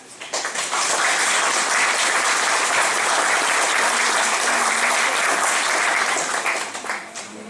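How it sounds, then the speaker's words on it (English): An audience at an Illawarra Zone fire brigade medal presentation in Helensburgh claps for the medal recipients. The dense, loud applause swells quickly, holds steady for several seconds, then tapers off. "one final round of applause for all of our recipients"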